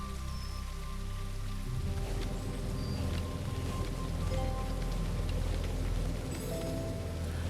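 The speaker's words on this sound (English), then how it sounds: "The rain is really pretty too." Steady rain pours in the Leaf Blower Co. video game, a dense, even hiss with soft patter and light rustle over a low background hum, continuous throughout with no talking.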